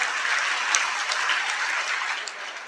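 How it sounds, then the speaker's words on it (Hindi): A crowd at a public speech event claps loudly and steadily, a dense sustained wash of applause with scattered sharper hand claps throughout. "इस बात के लिए एक जोरदार ताली बजाइए आप सारे लोग"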